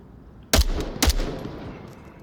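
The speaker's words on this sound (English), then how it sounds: "So 2 shots there." Two loud, sharp gunshots about half a second apart come from a VR shooter game played on a Reverb G2 headset with a ProTubeVR MagTube. Each shot has a short ringing tail.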